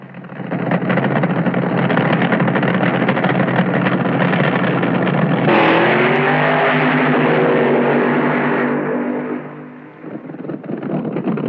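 AA fuel dragsters at a drag race, loud and close: a steady roaring engine drone that jumps into a harsher, rising howl halfway through as they launch, then drops away near the end.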